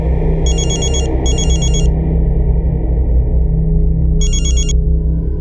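A telephone rings in three bright electronic bursts, two close together and then one after a pause, over a steady low background rumble with no talking.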